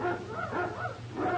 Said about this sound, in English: Quiet those hounds.